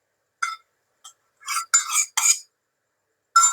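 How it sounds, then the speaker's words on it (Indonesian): A spatula works through banana cake batter made with margarine or butter and cooking oil, giving several short, bright scraping clinks against the bowl in quick bursts separated by pauses. "Lalu kita aduk pakai spatula."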